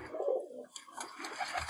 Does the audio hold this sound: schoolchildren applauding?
no